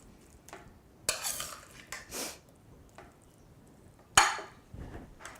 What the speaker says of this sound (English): I'm going to grab my meat and veggie mixture. And I'm going to spoon this over the top